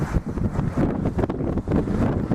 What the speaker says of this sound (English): Wind has settled down. It's 20 knots again.